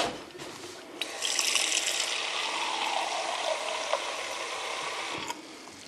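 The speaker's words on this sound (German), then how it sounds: "Und dann macht man so viel Wasser in diese Butterdose." Water runs from a tap into a French water butter dish, a steady bright splashing stream that starts softly, swells for several seconds and cuts off near the end, with no voices.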